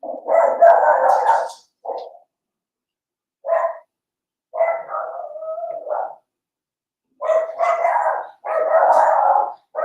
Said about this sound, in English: someone's delivering something to our front door, which makes my dog go nuts